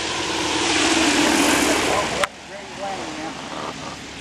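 A Jet Fox light propeller plane roars loudly close by as it lands, its engine noise cutting off abruptly midway, leaving quieter background sounds and faint voices.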